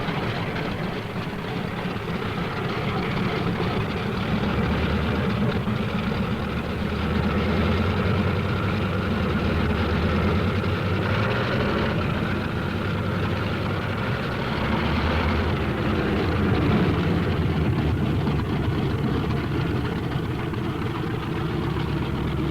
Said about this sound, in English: On the field, planes warm up. It's takeoff time for the Thunderbolts.